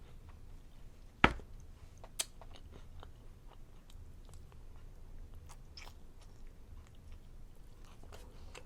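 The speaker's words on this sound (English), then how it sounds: "I'm tasting too much husk in the corn." Someone bites and chews corn close to the microphone with soft, steady mouth sounds. There is one sharp bite early on and another smaller crunch a moment later.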